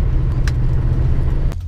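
A Corvette Stingray gives off a steady, deep engine rumble close by, holding an even level for the whole moment before easing off slightly at the end.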